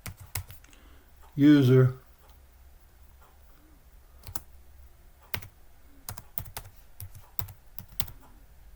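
Keys on a computer keyboard typed in short, irregular clusters of close, crisp clicks with pauses between them, following a brief spoken word near the start.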